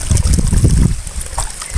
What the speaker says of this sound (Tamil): இப்போ தண்ணியில் நம்ம வாஷ் பண்ணிக்குவோம்